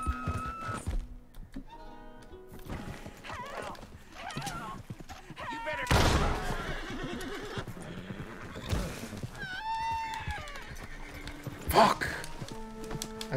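A horse in the video game Red Dead Redemption 2 neighs and whinnies several times, loud and close, with hoof clip-clops and thuds around it and someone talking over it.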